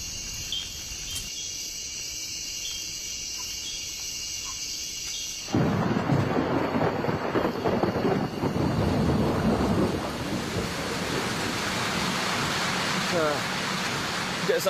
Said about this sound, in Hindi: पिछले करीब 4 घंटों से बारिश हो रही है और बिजली चमक रही है, बादल गरज रहे हैं।